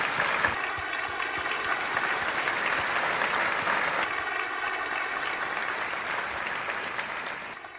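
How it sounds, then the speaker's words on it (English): Sustained applause from the audience at Cleveland's State of the City Address, honoring the family of Officer Bartek; steady, dense clapping fills the room from start to finish and eases slightly toward the end. "let's honor the Bartek family with a round of applause."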